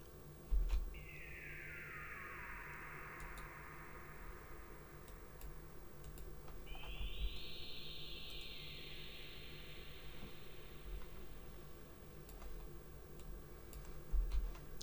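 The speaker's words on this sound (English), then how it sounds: "And I believe this is a laser I got from Nexus." Laser effect from the Nexus plugin in a late-night R&B beat: two long descending zaps, one near the start and another around seven seconds, gliding down in pitch over a soft ticking, hissy bed of quiet music.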